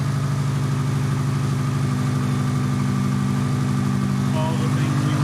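Subaru STI engine idling with a rich exhaust and a check-engine light on, a steady loud rhythmic burble, close and continuous, with a voice briefly heard over it.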